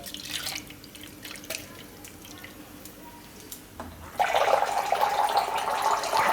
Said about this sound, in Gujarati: તો આમાં હજી આપણે થોડુંક પાણી નાખી દેવું.